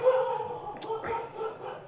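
A dog barks outdoors on a cold night, giving a couple of short yips at middle distance over faint background noise.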